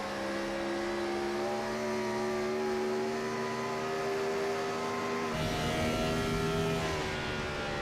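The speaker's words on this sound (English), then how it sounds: "You can hear him having to nurse that car from middle to exit." An ARCA series race car engine at Dover Motor Speedway holds a loud, steady high-pitched drone, with the pitch shifting as the car is nursed through a corner.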